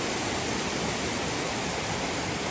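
A mountain creek rushes toward a waterfall at Upper Sols Creek Falls near Canada, North Carolina, producing a dense, constant hiss of flowing water that stays loud and close with no voices.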